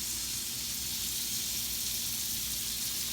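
Butter-soaked French toast slices sizzle steadily in a hot pan, a continuous close, even frying hiss with no pauses and no voices.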